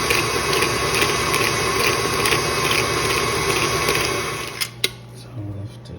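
Steady mechanical whir of an electric stand mixer running at medium speed with a paddle, beating cookie dough with a faint rhythmic rattle; it winds down near the end as a voice speaks briefly.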